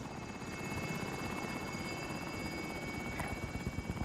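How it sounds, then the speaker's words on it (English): Continuous helicopter rotor thump and engine whine from a video game, moderately loud and steady with a faint rhythmic chop and no speech. "Helo is in position."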